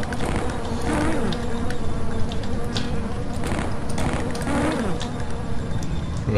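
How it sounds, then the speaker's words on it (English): Steady droning buzz of flying insect enemies, flies or wasps, in the video game Shadow Warrior, continuous and fairly loud with a faint engine-like hum underneath and no talking. "Right, there's flies out here."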